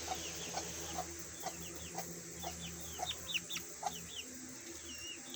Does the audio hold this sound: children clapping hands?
no